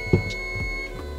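An oven timer sounds a steady electronic beep while chocolate cakes bake, a thin continuous tone held at a constant level through the whole short stretch, with no voices.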